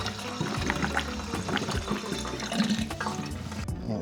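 Gasoline splashes and gurgles steadily into the fuel tank of a 1979 Briggs & Stratton engine, a close, continuous pour with no talk over it.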